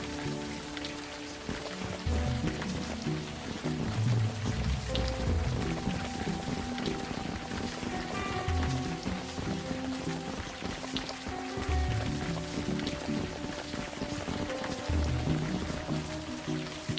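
Steady rain falls in the point-and-click adventure game Unavowed, a constant wash of patter and drops that runs alone the whole time beneath a low tonal musical hum.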